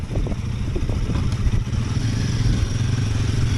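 Steady motorcycle engine drone close up while riding a mountain road in Kodaikanal on the way to a waterfall, with a constant low rumble, slight revving swells and light mechanical clatter throughout.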